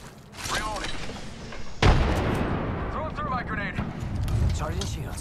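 A frag grenade blast and gunfire in the game Apex Legends: a sudden heavy boom amid rattling shots and mechanical clatter, with people talking over the combat throughout.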